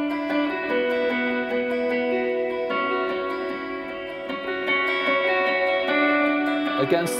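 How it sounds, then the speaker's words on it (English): An electric guitar plays a verse through an echo effect, its shimmering notes repeating and overlapping into a sustained, reverberant wash, moderately loud and steady with no talking over it. "And then we go to the echo sound, which is the verse."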